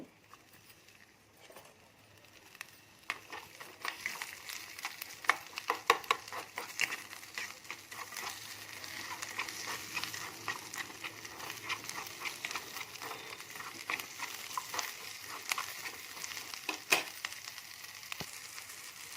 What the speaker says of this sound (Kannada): ಈರುಳ್ಳಿ ಬೆಳ್ಳುಳ್ಳಿ ಚೆನ್ನಾಗಿ ಇವಾಗ ಫ್ರೈ ಆಗಿದೆ